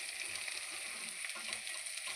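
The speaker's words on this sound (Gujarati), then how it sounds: "તો મસ્ત મજાની કોબી ને ડુંગળીની સતળી જાય" Cabbage and onion fry in a pan for a Punjabi-style cabbage dish over low heat, giving a steady, even sizzle with fine crackling throughout and no voices.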